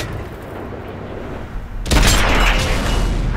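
A tank cannon booms in a World of Tanks style game with an E50 tank, a sudden loud blast after a steady engine rumble, its roar sustaining to the end.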